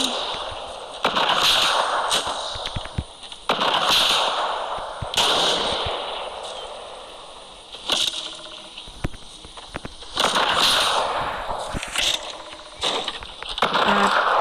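Fortnite gunfire: a series of sharp, loud shots in irregular bursts, spaced a second or two apart, over a hissing, busy game background, with no voices.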